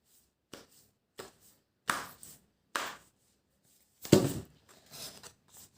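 Tarot cards handled during a card reading: a series of short, sharp slaps and flicks, spaced irregularly, with one louder shuffle-like burst near the middle, close and alone without talk.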